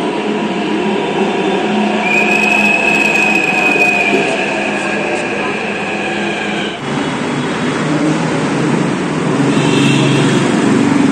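A metro train runs at LB Nagar metro station in Hyderabad, a loud continuous rumble with a rising high wheel squeal and a brief dip midway, close and steady with no talk.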